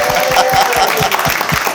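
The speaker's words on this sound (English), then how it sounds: "Good, y'all just applaud for myself and yourself." Steady, dense audience applause fills a hall at a confidence summit, many hands clapping together continuously and loudly throughout.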